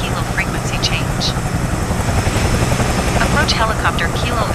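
A Bell 222B helicopter in flight, heard from inside the cabin as a loud, constant rotor and turbine drone with steady rhythmic blade thumping and radio-style voice chatter underneath.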